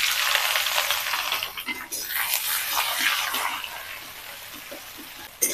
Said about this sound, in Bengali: পেঁয়াজটাকে আমি হালকা করে ভেজে নিচ্ছি।